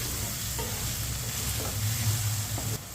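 Ginger and garlic fry in a pan for Arvi masala, giving a steady close sizzle with faint stirring scrapes, continuous and moderately quiet with no talking.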